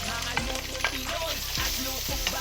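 Garlic and ginger sautéing in a pan for braised beef with asparagus, a close steady sizzle with a few stirring scrapes and clinks over a faint low hum.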